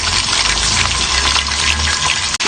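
Pieces of roast chicken fry in oil left from frying onions, with a close, loud, bubbling sizzle and some watery crackle over a few seconds.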